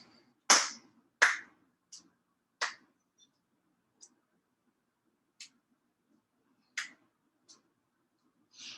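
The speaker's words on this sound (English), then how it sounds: "Clap your hands forward and back." Hands clap sharply during a yoga session: two strong claps, then a series of lighter, irregular claps that fade, with soft background noise.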